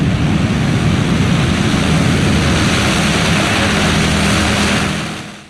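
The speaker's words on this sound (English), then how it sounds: "I've never quite felt the ground shake like that while filming an airliner taking off" A large airliner roars on its takeoff run in California, a loud, steady, broadband engine rumble with heavy low-frequency content that holds constant and then fades at the end, with no voices.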